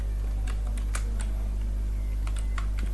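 Keystrokes on a computer keyboard while entering text for a web design project, a sparse run of light clicks in small clusters over a steady low hum, close by and quiet, with no talking.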